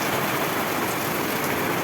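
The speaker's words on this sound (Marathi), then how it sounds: "असा आता पाऊस पडायला लागला बघा" Rain falling steadily in a dense, even hiss of drops on surfaces, with no pauses and no other sounds.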